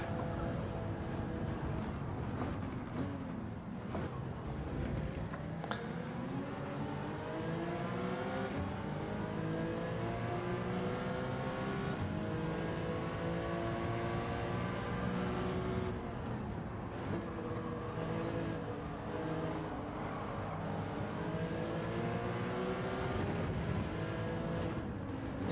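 Race cars in Gran Turismo 7 weave through a course with a continuous, close engine drone that revs up and eases off in long sweeps, layered tones from several cars, and no voices.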